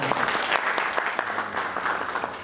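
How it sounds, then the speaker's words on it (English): Dense, steady applause from an audience at a gym launch in New Delhi, loud and close, filling the moment with continuous clapping and little talk. "Can we please have a round of applause for them?"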